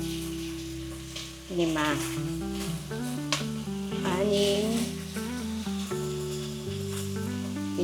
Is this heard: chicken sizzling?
yes